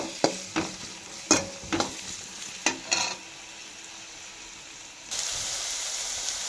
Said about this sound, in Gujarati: ફણસી, કેપ્સિકમ ને મરચું ત્રણેય વસ્તુ આપણે એડ કરી દીધી છે। હવે આને પણ આપણે થોડી વાર સાતળવા દઈશું